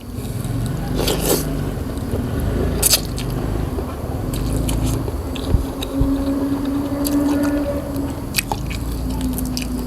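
Close crunching and squishy chewing of a spicy Thai salad made with giant cockles, steady wet bites and scraping running throughout under a low background hum, no talking.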